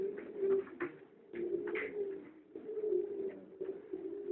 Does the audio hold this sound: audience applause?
no